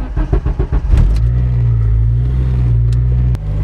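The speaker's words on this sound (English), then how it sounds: "Let's see if this thing starts after 2 days of not driving it." A car engine cranks through a rapid run of starter pulses after sitting unused for two days, then catches and settles into a loud, steady idle close by before a brief blip near the end.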